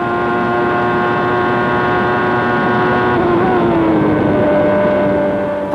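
1994 Formula 1 cars racing, a loud sustained high-revving engine whine with steady harmonic tones that shift in pitch as a car passes close by.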